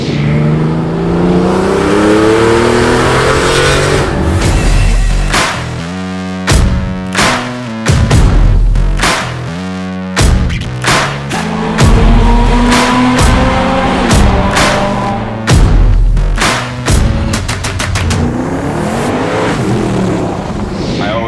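A 1971 Alfa Romeo Spider Veloce, Series 2 with the 1750 engine, revs loudly in repeated sharp bursts, the engine blipping up and falling back, close and dominant, with no voices over it.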